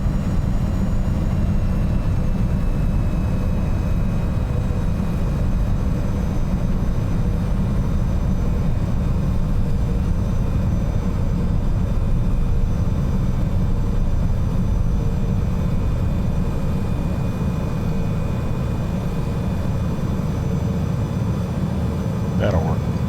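A steady, droning engine rumble of an airplane taxiing in Microsoft Flight Simulator, constant and unbroken throughout with no talk.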